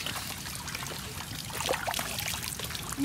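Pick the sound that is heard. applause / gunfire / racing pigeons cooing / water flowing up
water flowing up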